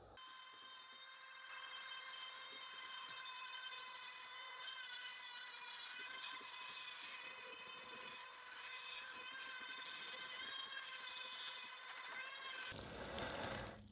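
A Dremel grinds powder coat off a vehicle frame while shocks are being installed, giving a continuous high-pitched whine that stays steady and loud for about thirteen seconds before cutting off.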